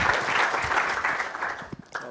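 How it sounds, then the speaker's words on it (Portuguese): A session audience claps for a speaker about to take the floor, a full burst of applause that thins into scattered claps toward the end. "Peço-te apenas uma salva de palmas."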